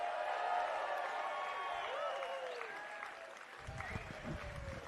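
A large crowd applauds and cheers at a climbing festival in Chicago, a steady wash of clapping that holds throughout, with some louder, closer claps and movement near the end.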